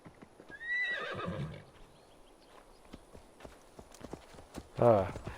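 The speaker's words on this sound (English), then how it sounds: "Your horse is neighing at you." A horse in the video game Assassin's Creed Valhalla neighs, with a clear whinny near the start followed by a second short snort-like call near the end. Faint hoof clip-clops and light game sounds are heard between the calls.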